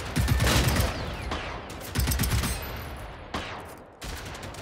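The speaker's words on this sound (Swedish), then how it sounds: "jag ser de skjuter" Bursts of rapid gunfire from the video game Generation Zero in quick rattling volleys, loud and close, separated by brief pauses.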